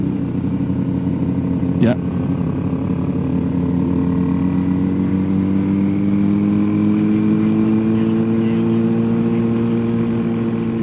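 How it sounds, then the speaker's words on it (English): A Mitsubishi car engine idling and lugging as the clutch is eased out to the friction point, a steady low drone with a pitch that slowly rises and sags, close and continuous, with a brief spoken word. "let the clutch out to the friction point"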